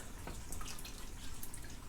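Coral dip poured from a torn-open packet into a gallon of salt water; a brief, close, splashy trickle of liquid, with no talk.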